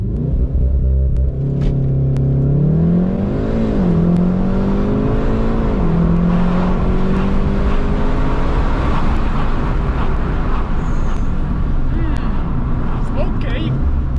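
Car engine revving hard with the pedal floored, a loud sustained roar whose pitch climbs and dips through several rises, running steadily under talk throughout.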